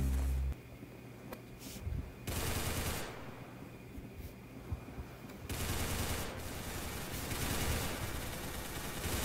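Rapid gunfire from the Roblox shooter game Arsenal, bursts of dense automatic shots separated by quieter gaps, ending in a long sustained volley, with no talking.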